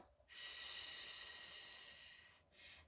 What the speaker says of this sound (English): Really breathing in through the nose. Nice controlled exhale.